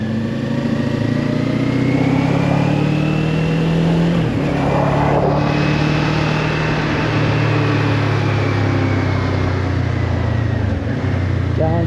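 A vehicle engine runs steadily under maintenance throttle while pulling away from a stop, making a loud, continuous drone with a brief dip around the middle and no pause.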